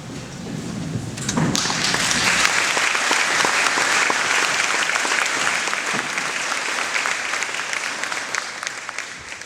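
An audience at a Veterans Day event breaks into loud, sustained applause that starts abruptly and carries on evenly, close and full.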